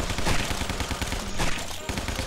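Dense, continuous gunfire from the video game Guns, Gore & Cannoli, with loud overlapping shots and bursts filling the whole stretch, a magnum revolver among the weapons, with no clear pauses.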